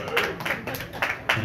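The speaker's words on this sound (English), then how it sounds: "I like this clapping." Audience applause at a December comedy open mic in a club, a steady patter of hand claps with several louder swells, heard close and moderately loud.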